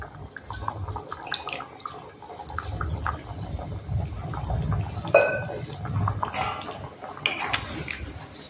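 Water poured into chicken cooking in a homemade curd batter, a steady splashing trickle running for several seconds at moderate level, with faint kitchen clatter and no speech.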